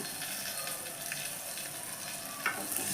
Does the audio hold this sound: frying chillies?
yes